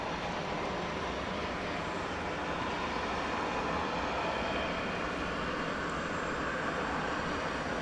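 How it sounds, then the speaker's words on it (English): A Delta Airbus A319 arriving from Salt Lake City at Dallas Fort Worth airport, heard as a continuous broad engine roar at steady loudness, with no voices. "Delta flight from Salt Lake City is arriving. It's an Airbus A319"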